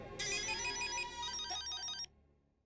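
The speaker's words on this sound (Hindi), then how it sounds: "फोन बज रहा है।" A phone ringtone plays loudly and steadily for about two seconds, a bright repeating electronic melody, then cuts off abruptly.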